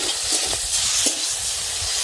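A steady, close sizzle of frying prawns with a few soft stirring sounds as ground mustard and poppy seed paste is added to the pan.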